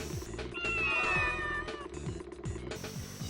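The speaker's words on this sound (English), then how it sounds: "asking you to shoo cats off the cars in a parking lot." Cats meow in the Simple2000 video game, a drawn-out, rising and falling meow standing out over a quiet game backdrop with a faint repeating rhythmic tone, lasting a couple of seconds before fading.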